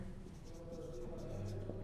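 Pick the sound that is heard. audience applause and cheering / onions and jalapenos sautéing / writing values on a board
writing values on a board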